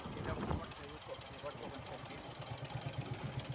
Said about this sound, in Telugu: ఇంజిన్లో సపోర్ట్ నాయిస్ అయితే వస్తూ ఉంది.